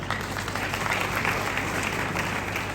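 Church audience at a children's Christmas event applauding the kids, with dense, steady clapping from many hands filling the room, close and continuous.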